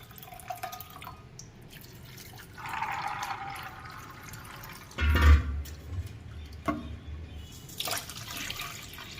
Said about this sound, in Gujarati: એ પાણીએ ધોઈ નાખીએ છીએ.